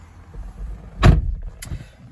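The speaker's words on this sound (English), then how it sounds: "Right, let's close that door." Door of a BMW X3 M40i swung shut from inside the cabin, a single solid low thud near the middle, followed by a faint click and quiet interior.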